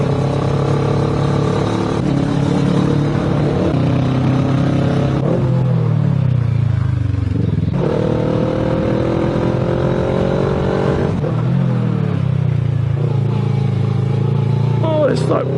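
A Kawasaki Versys motorcycle rides over rough, broken hairpin road on the Stelvio Pass. The engine drones steadily and dips and rises as it slows into bends and pulls away, with constant wind and road roar throughout.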